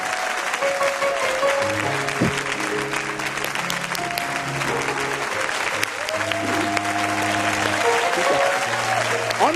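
A church congregation applauding and cheering, a sustained burst of dense clapping with shouts and a loud voice calling out over it.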